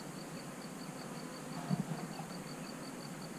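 Honey bees buzz faintly around an open hive, a thin steady drone with a couple of brief louder thuds partway through, no talking.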